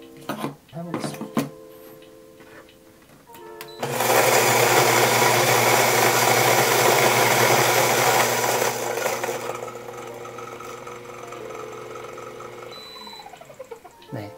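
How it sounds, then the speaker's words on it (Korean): A Fellow Ode coffee grinder grinds beans in a loud, dense whirring burst lasting several seconds, then winds down to a lower hum; scattered clicks and handling noises come before and after, all close by. "펠로우 오드의 실제 그라인딩 소음을 들어보셨고요."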